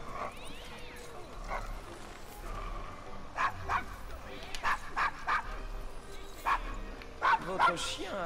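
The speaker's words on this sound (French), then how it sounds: "Votre chien a l'air fâché." An angry dog barks in bursts in Assassin's Creed Syndicate, sharp barks and yips rising over quiet game ambience, fairly close and repeated several times in the second half.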